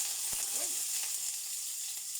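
Wet eggplant slices fry in a very hot pan, giving a steady loud sizzling hiss with occasional faint pops and utensil clicks, close by and unbroken, with no voices.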